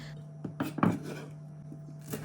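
A few sharp, irregular knife taps on a cutting board as parsley is chopped, close by, over a low steady hum.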